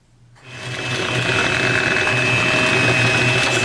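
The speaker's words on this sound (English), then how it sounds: "I feel like I need to get just my mixer and mix it that way." An electric mixer working blueberry pie dough starts up and runs with a loud, steady motor whir and a high hum, continuous with no talk.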